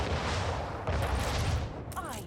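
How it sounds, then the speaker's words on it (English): A volley of ship cannons fires in the naval combat of the video game Anno 1800, a dense burst of overlapping booms and crackling blasts with a short whistling tone near the end. "Can we get another shot from all my ships?"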